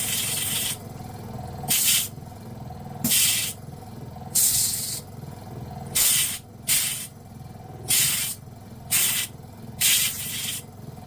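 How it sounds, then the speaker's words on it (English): A small air compressor cycles in regular bursts of loud hissing air, roughly every second, over a low running hum, close by with no talk. "There we go, little compressor's on."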